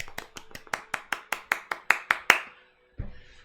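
About a dozen crisp, close hand claps land in a steady rhythm, ringing slightly in a small room, followed by a short pause and a single soft thump, during a live design portfolio review.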